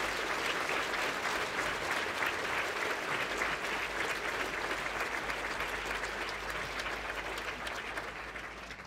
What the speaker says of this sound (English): So I'd like us to do a round of applause for the volunteers and all of their parents.